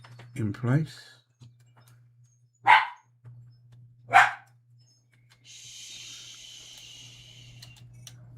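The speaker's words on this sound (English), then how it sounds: "That's the dog talking to another dog outside now." Indoor dog barks at another dog outside, giving three sharp, fairly loud barks spaced a second or more apart over a steady low hum, with a brief spoken phrase just before them.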